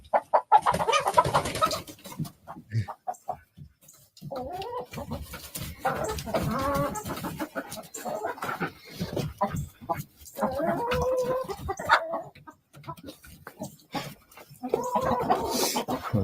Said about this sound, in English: I just got through feeding the chickens.